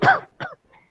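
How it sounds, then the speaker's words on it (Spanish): Someone coughs or clears their throat at a spoken session on environmental justice, a strong rough burst followed by a shorter second one and a faint third, with quiet between them. "Perdón por la tos"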